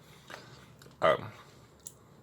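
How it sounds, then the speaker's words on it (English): Someone bites and chews a crunchy biscuit with onion salt: one sharp, close crunch, then quieter chewing clicks in a quiet room. "This one is more biscuit kind of crunch."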